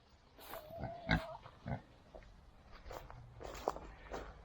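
Pigs on a farm grunt and snuffle nearby amid shuffling footsteps and rustling, scattered low oinks coming in short bursts over a quiet background.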